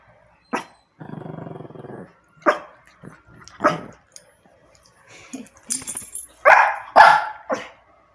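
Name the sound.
dogs barking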